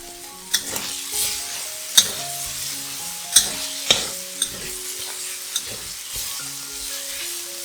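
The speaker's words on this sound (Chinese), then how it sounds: "加入糖、胡椒粉、酱油、素蚝油，炒均匀。" Vegetarian sea cucumber stir-fried in a wok with sugar, pepper, soy sauce and vegetarian oyster sauce, a loud steady sizzle broken by sharp spatula scrapes and clanks against the pan.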